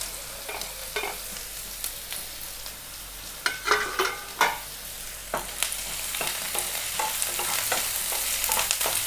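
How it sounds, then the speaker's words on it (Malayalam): Ginger and green chilies sautéing in a pan with oil, a steady soft sizzle broken by scraping and clinking stir strokes from a spoon, close and alone with no voices. "ഇതൊന്ന് നല്ല വഴന്ന് വരണ്ട, കുറച്ചൊന്ന് വഴന്ന് വരട്ടെ."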